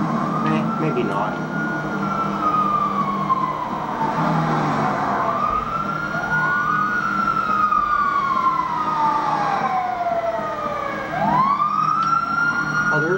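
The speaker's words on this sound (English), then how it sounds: "there's the ambulance" An ambulance siren in GTA 5 wails in long rising and falling sweeps over steady engine and traffic noise, loud and sustained for the whole stretch.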